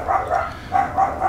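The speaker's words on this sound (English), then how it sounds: "Listen to him sound, trying to sound like a big double R dog" A small dog barking in the video game Broken Sword 3, a few short yappy barks in a quick rhythm, moderately loud and close, with no talk over them.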